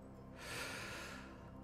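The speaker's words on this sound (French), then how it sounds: "Donc, inspirez profondément." One slow, deep breath drawn in through the nose, a soft airy rush that swells and fades over about a second, close and quiet with no talking.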